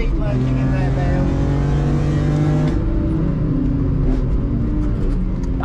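A BMW M3 CSL race car drives a lap of the Nürburgring, its engine a loud, steady in-car drone with shifting pitch and a gear change midway, while people talk over it.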